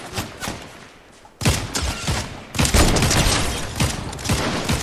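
Grenades explode in Fortnite, two heavy booming bursts that break a quieter stretch and then keep rumbling and crackling loudly to the end, like a string of blasts and gunfire.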